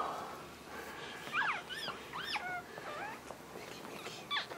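Newborn one-day-old Lhasa Apso puppies whimper and squeak in a series of thin, rising and falling cries, close by but faint over a soft background hum, with no talking.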